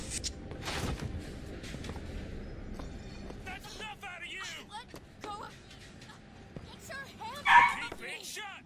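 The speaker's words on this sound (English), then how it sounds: "my dog's barking" A dog barks, yips and whimpers repeatedly in short bursts, moderately close, with a louder burst near the end, mixed with video game sounds and someone talking.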